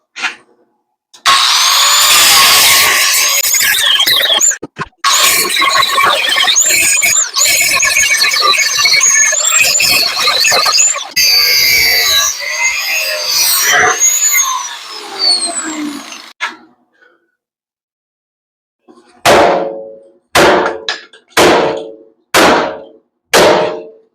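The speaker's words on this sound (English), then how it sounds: "Now I'll cut these rivets" Rivets being cut off the frame flange of a 1978 Chevy C20 truck with a power tool, loud sustained grinding in long bursts, then a pause and a few short separate cuts near the end.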